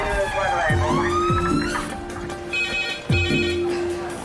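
A hospital emergency department red phone rings with repeated electronic bursts against a busy ward, several people talking over and around it.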